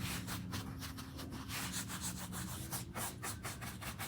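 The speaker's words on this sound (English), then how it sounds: "I use the foam roller." A foam roller runs repeatedly over a wooden nightstand while applying paint, giving a soft, steady rubbing swish with a rhythmic back-and-forth pulse, close and faint, with no talking.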